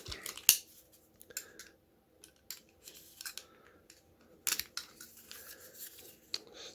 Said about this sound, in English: Let me try to cut this open.